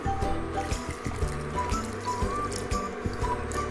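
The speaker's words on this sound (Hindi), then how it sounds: "अब हम इसमें पानी डालेंगे इसकी ग्रेवी के लिए।" Water is poured into a pot of Lucknowi-style degi aloo gosht, meat and potatoes already browned, to make the gravy; a steady close trickle runs under kitchen clatter without pause.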